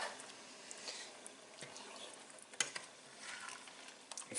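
Tomato sauce simmering in a pot while being stirred, giving faint, steady bubbling and soft scraping with a few louder knocks of the spoon against the pot.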